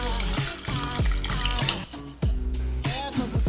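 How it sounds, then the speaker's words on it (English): Water pours from a kettle into an Instant Pot while making yogurt, a steady splashing stream with rising and falling gurgles, with background music present. "I pour in enough water until it reaches just the bottom of the rack"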